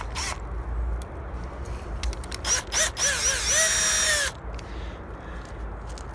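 A cordless drill fitted with a drill bit spins up in short bursts, then runs in one longer whine that rises and levels off before stopping, close by amid faint background noise.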